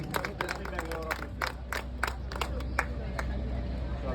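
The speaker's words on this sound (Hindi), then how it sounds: "एक बार जोरदार तालियां बजा दीजिए आप लोग।" Scattered hand claps from a cruise party crowd come in uneven bursts that fade and grow sparser, with crowd chatter and a low steady hum underneath.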